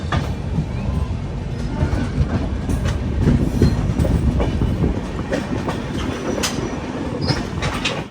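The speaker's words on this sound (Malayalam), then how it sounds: "ട്രെയിൻ ഇപ്പോൾ ബംഗളൂരു കണ്ടോൺമെന്റ് റെയിൽവേ സ്റ്റേഷനിലെത്തി" The Brindavan Express rumbles steadily into Bengaluru Cantonment railway station with clattering wheels and occasional metallic squeals, a loud continuous roar as it rolls in slowly.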